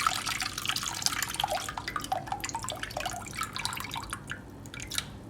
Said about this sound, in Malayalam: ഇനി ഈ പിഴിഞ്ഞ പുളിയെ